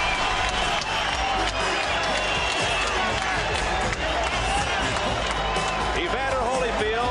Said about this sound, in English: Evander Holyfield gets the greeting from the crowd.